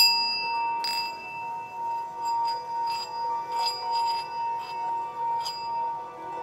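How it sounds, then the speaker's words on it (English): A series of meditation bells rings out one after another in a quiet room, each clear, sustained glassy tone swelling and fading in a slow, gently irregular rhythm. "Now you're going to hear a series of bells."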